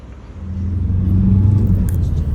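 A car driving through a Kryvyi Rih neighbourhood, its low engine rumble swelling slightly as it moves off, close and steady with no talking.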